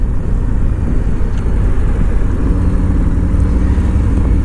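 A Harley-Davidson Road Glide ST motorcycle engine drones loud and steady under the rider while leaning through a turn, a continuous low rumble mixed with rushing wind, with no talk.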